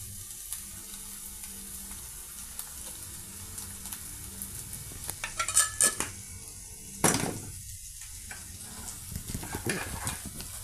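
Boiled potatoes being stir-fried with red chilli powder in a pan, a soft continuous sizzle with scraping spatula strokes and a few sharp clinks against the metal.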